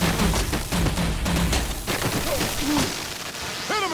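Rapid gunfire volleys crackle through a tense standoff in the Batman: The Enemy Within game, dense and loud from start to finish, with shouted voices and whooshing effects layered in as the shots continue.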